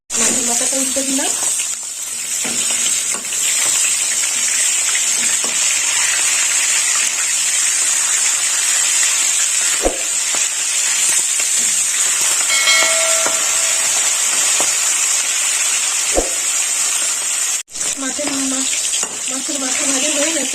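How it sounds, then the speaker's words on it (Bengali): A fish head, rubbed with salt and turmeric, sizzles steadily in hot oil after being flipped in a pan, making a loud continuous frying hiss with occasional pops and crackles throughout. "মাছের মাথাটা উল্টে দিলাম"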